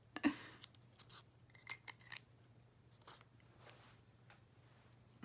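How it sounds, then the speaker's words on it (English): Small scissors cut paper in a few close, quiet snips and crisp clicks, spaced irregularly against a soft low hum with light rustling between cuts. "Let me grab my little scissors. This will cut it better."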